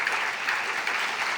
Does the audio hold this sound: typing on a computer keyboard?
no